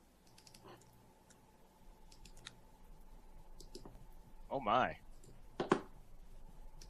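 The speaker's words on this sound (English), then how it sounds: "Clicking on the link." Several faint, sharp computer mouse clicks on a link, scattered and quiet beneath room noise, with a person briefly exclaiming partway through.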